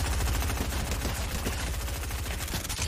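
Rapid gunfire in the video game Fortnite during a casual match, dense bursts of shots that run continuously and loud with no voices over them.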